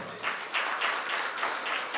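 A church congregation applauds together in a steady wash of clapping that swells in several waves across the whole stretch, loud and close with no talking.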